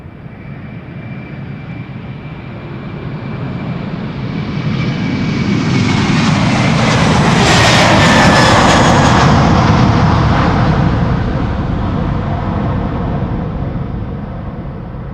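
A KLM Airbus A330-200 jet airliner's engines roar as it approaches at Schiphol Airport, swelling to a loud, rushing peak overhead and then slowly fading away as it passes.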